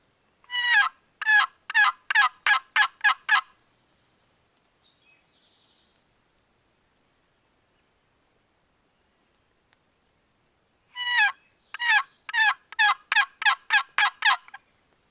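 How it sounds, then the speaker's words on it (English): A wild turkey gobbles in rapid bursts of repeated calls during a spring hunt in New York, loud and clear in quiet surroundings, with a long silent gap between two series. "Me and Caleb heard about one gobble, that's it."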